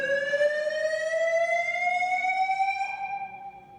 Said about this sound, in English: You can hear the alarm bells going off in the background.